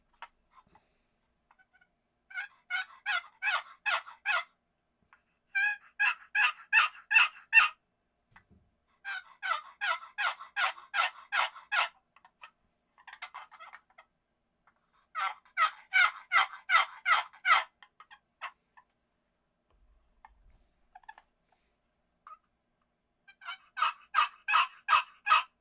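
Repeated series of raspy yelping notes from a turkey box call, played in rhythmic bursts of about eight to ten yelps with quiet gaps between, close and clear.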